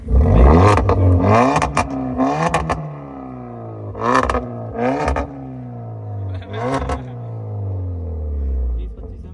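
A Hyundai i20 car engine revs hard in repeated bursts, each rising and falling pitch sweep loud and close. Faint voices are heard between the revs.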